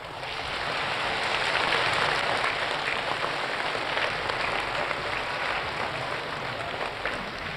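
An audience at a Poznańska Pro Sinfonica concert hall applauds to welcome the conductor onto the stage, a dense, sustained wash of clapping that holds steady and then eases slightly, with no talk.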